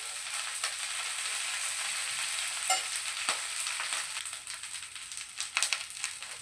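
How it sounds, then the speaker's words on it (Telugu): Curry leaves frying in oil in a pan for a pickle, a steady close crackling sizzle with occasional sharper pops and stirring scrapes, no voices. "ఇప్పుడు కరివేపాకు వేయించుకుందాం."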